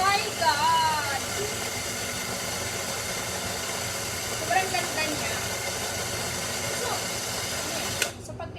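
Mini coffee grinder switched on and running steadily, a continuous whirring motor hum close by with a small click near the end, while a person speaks over it.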